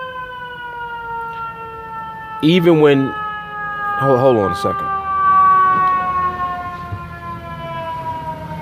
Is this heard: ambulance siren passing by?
yes